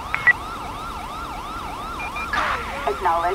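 Wailing ambulance siren in GTA 5 during an LSPDFR police patrol, rising and falling in steady repeated sweeps over a low engine hum, with brief clicks and a short burst of radio-like noise near the end.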